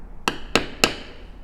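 A metal bevel tool struck by a mallet to bevel a line in leather for a custom bag tag, three sharp evenly spaced taps ringing briefly and close.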